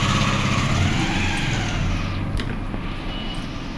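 A kitchen grinder purees chana dal with green chilies, a piece of ginger and whole cumin seeds. Its motor gives a loud, steady roar close by and runs throughout without a break.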